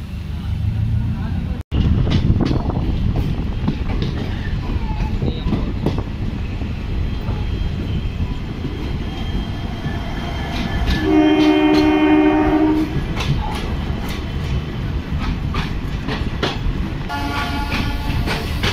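Peddapalli–Kacheguda DEMU express running toward Nizamabad railway station: a constant rumble of wheels and carriage noise heard from onboard, with a brief clank and two horn blasts near the end while people talk.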